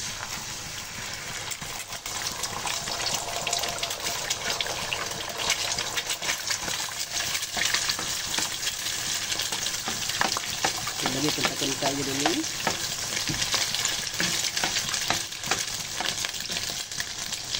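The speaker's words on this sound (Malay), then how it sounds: "kita tunggu minyak panas. Okey, lepas tu kita masukkan telur." Egg frying in hot oil in a pan for nasi goreng, a steady close sizzle with clatter and stirring scrapes, while a voice speaks briefly over it.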